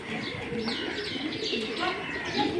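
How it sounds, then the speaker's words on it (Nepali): Pigeons coo in a close, continuous overlapping chorus of soft rolling calls, mixed with occasional chirps from other birds, with no one talking. "सो परेवा चाहिँ मैले टन्नै भेटेँ"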